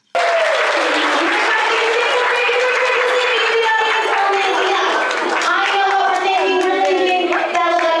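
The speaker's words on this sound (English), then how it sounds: "everybody knows this is when we clap and cheer" A live audience breaks into loud, sustained applause with cheering mixed in, dense and continuous from start to finish, with voices shouting beneath the clapping.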